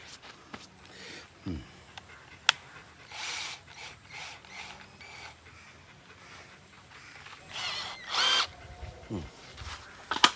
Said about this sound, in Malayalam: എന്താ ഇത് അര മില്ലിയുടെ ഡ്രിൽ ബിറ്റാ